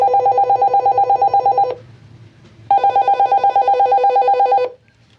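A Spinlock life vest man-overboard alarm sounds in two rapid pulsing electronic beep bursts with a short gap between them, loud and close.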